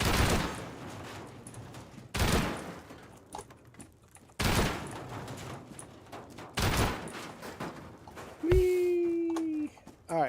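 Gunfire aimed at a turret in the video game Rust comes in four loud, close bursts about two seconds apart, each decaying quickly, followed by a short electronic tone.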